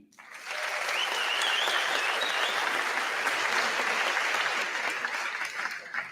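A town hall audience in a theatre applauds in answer to a poll question, clapping swelling quickly to a sustained dense roar and easing slightly near the end, with no one speaking over it.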